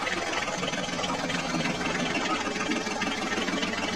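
Toy tractor engine running continuously, a steady buzzing mechanical whir that holds at a constant level throughout with no pauses.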